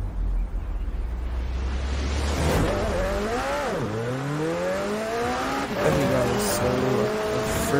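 Racing car engine in a Forza Horizon 4 circuit race, revving up through several gear changes with rising and dropping pitch, loud and close, alongside rumbling road and wind noise.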